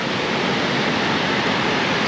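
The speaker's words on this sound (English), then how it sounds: "So it looks as though they've got quite a good set of waves here." Sea waves at Ca'n Pastilla beach in Mallorca roll in as a loud, continuous broadband wash of surf, steady throughout without any voices.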